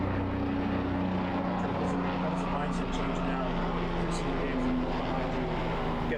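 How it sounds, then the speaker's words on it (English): Helicopter flying overhead during an outdoor interview with a New York Giants player, a steady droning rotor and engine hum heard throughout beneath people talking. "the helicopter's kind of loud."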